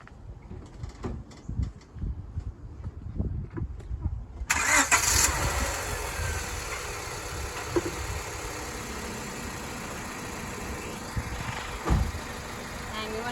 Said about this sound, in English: We're going to go ahead and start the live car.